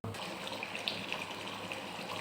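Water pours steadily into a cooking pot for making rice, a continuous close gushing splash that holds evenly for about two seconds with no talk over it.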